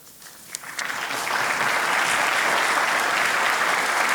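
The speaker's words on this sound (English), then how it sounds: "would please stand and be accompanied with a round of applause" At a chamber of commerce annual meeting and awards ceremony, applause for the club women starts with a few scattered claps and quickly swells into full, steady clapping from a large room of people.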